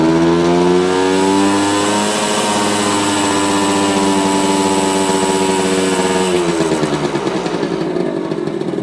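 A 1973 Suzuki TC125 motorcycle engine revs steadily and loudly near the listener, its pitch climbing and holding high before easing and dropping back toward idle near the end, with no talking.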